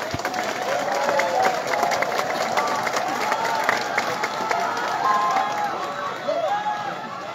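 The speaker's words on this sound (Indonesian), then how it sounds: "Tepuk tangan semuanya." A crowd at a student demonstration claps and cheers, dense and sustained, with shouts and voices mixed through the applause and a loudspeaker voice briefly audible.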